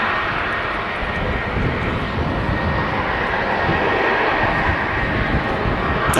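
An airliner touching down at Manchester Airport produces a loud, continuous engine roar, broad and steady with a slight swell, heard alone without talk.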